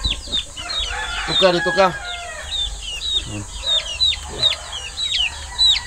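Native chickens let out of their coop and walking around outside, clucking steadily up close, with repeated short calls over a constant background hum, while a person speaks briefly near the start.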